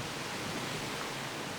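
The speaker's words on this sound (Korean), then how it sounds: "발걸음을 맞춰주던 물소리를 따라 잠시 내려가 봤습니다." Mountain stream flowing through a small, untouched valley in Inje, a steady broadband rush of water heard close and alone, with no voices over it.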